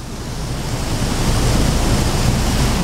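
A rain-swollen river rushes during a heavy monsoon downpour along the Road to Hana on Maui, Hawaii, making a loud, steady broadband roar of water and rain that swells slightly and continues without any talking.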